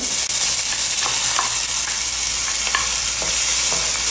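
Sliced onion frying in olive oil in a pan, a loud continuous sizzle with occasional stirring scrapes close by.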